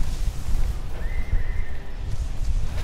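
A horse in a video game lets out a thin, drawn-out whinny over a low rumbling bed of hooves and game noise, heard for a couple of seconds.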